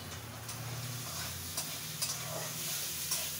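Rice frying in a pan, a low, quiet steady sizzle with a few soft stirring clicks and taps spaced through the clip, no voices.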